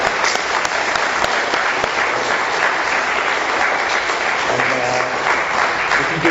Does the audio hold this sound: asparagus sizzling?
no